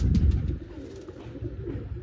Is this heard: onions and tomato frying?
no